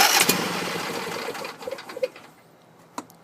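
A John Deere L120 riding mower's warm engine cranks and catches loudly, then dies down to quieter sputters and a few short mechanical knocks.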